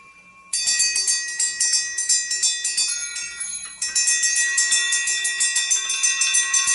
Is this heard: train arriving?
no